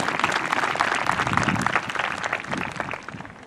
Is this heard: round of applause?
yes